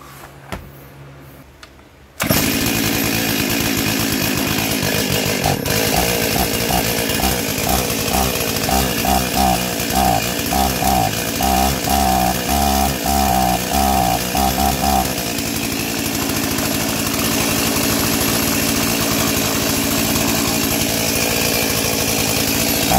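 A Stihl 036 chainsaw rebuilt from a junkyard find, with no air filter fitted, fires after a couple of pulls and runs loudly, its raspy two-stroke engine revving unevenly and bogging before settling into a steady, buzzing idle.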